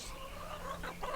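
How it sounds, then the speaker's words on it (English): Chickens brought onto a ranch pasture cluck in a steady, close chatter, a soft continuous run of calls with a few brighter clucks near the end. "So we brought these chickens for a couple of reasons."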